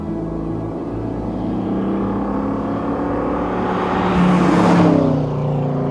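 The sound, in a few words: old Ford Mustang engine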